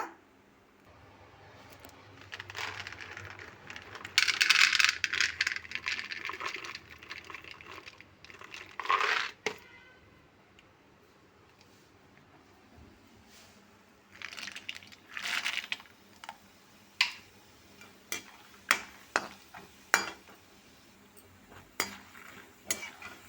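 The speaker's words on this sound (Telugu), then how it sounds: "అందుకే కొన్ని పల్లీలు కూడా ఫ్రై చేస్తున్నా" Peanuts rattle and clatter into a pan and then sizzle softly while being fried for an okra fry, followed by a spoon tapping and scraping in scattered, crisp clicks.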